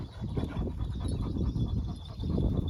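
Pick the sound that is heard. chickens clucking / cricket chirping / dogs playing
dogs playing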